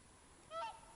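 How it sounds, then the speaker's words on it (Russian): A lone wild goose, separated from its flock, gives a single faint honk in the frosty, snowy outdoors by a riverbank, a brief nasal call rising out of quiet background hiss. "Слышишь? Да. Гусь идет."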